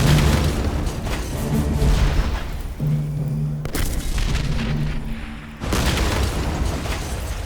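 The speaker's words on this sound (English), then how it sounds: "This grenade will finish them!" A grenade explosion in a game brings heavy booming blasts and rumbling, with repeated deep thuds and sudden cut-offs over a continuous loud din.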